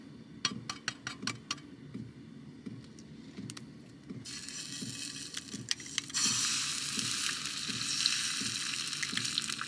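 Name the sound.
egg frying in a pan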